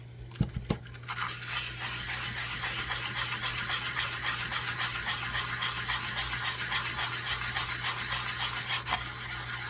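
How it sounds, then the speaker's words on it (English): Steady back-and-forth sanding strokes rubbing across a hardened eco-pour resin piece, a continuous close scratchy rasp after a few brief knocks at the start, no talking. "I want to sand this some more."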